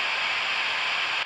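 Steady broadband hiss and noise from a guitar amp plug-in running with no noise gate, a constant wash that cuts off abruptly at the end, with no playing or talking.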